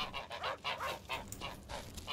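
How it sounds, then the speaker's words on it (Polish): A goose in the video game The Witcher 2 honks in a rapid run of about nine nasal calls, close and loud, with no talking over it. "Jaka zajebista gęś!"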